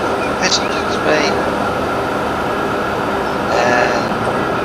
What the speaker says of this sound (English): Taking the bypass for the passenger train